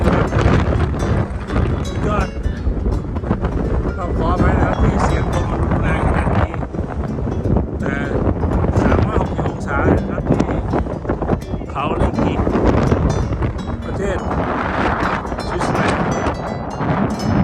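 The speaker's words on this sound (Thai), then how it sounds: "นั่นเป็นเสียงลมจริงนะครับ" Strong wind on the summit of Mount Rigi in Switzerland roars and buffets the microphone continuously, loud and gusty throughout with no pauses.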